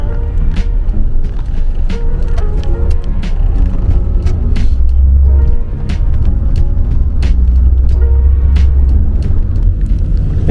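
Loud interior rumble of a vehicle moving through Bangkok traffic, steady low engine and road drone with intermittent knocks and rattles, no voices.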